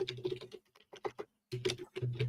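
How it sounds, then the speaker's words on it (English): Quick bursts of keystrokes on a computer keyboard, heard quietly in a courtroom, pause briefly and then resume in rapid pattering clusters. "She's typing away."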